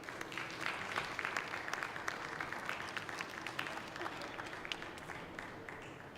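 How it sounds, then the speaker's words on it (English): Audience applause for a panel at the closing session of the Smart City Expo World Congress, a steady wash of many hands clapping, fairly distant and sustained throughout. "Please give them a round of applause."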